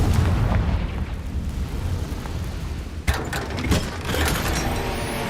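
A Confringo fire spell blasting in the video game Hogwarts Legacy: a dense roaring rumble, then a sharp burst with crackling debris and a second swell of booming, loud and close with no talk.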